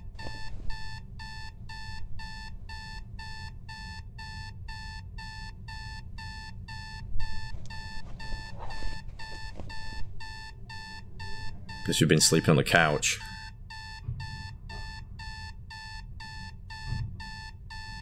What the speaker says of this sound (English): What's the alarm clock doing up there?